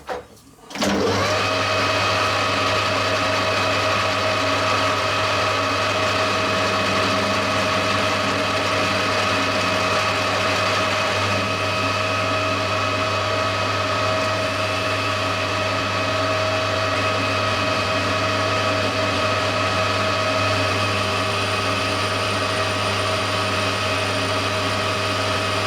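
A lathe runs steadily, machining the face of a cast brass machinist hammer with the compound slide set at 2.5 degrees, giving a continuous close mechanical hum with a faint steady whine.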